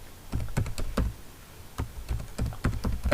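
Short bursts of keystrokes on a computer keyboard as a network switch interface command is entered, close and fairly loud, clustered into quick runs with brief pauses between.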